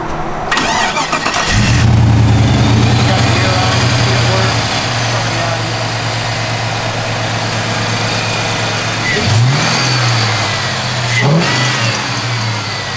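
An old 1970 Chevrolet CST10 pickup truck engine cranks and catches, then runs with a low rumbling idle, punctuated by a couple of rising revs near the end.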